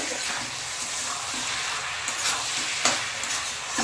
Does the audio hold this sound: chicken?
no